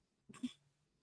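A single short sneeze-like burst, close and brief, rising sharply out of a quiet room and fading within half a second, with no talk around it.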